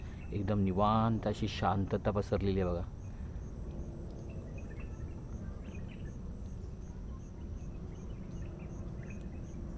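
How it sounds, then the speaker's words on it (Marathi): Crickets chirr faintly and steadily beside a mangrove creek marsh at Vashi in the evening, a thin continuous drone under still air, with someone speaking over it for the first few seconds. "आणि बघा रातकिड्यांचा आवाज येतो आहे"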